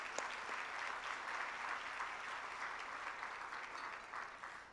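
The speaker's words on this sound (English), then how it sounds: "Yes, let's applause." An audience applauds at a Los Angeles gala, a steady, even wash of clapping from many hands that carries on throughout, heard at a distance and fairly faint.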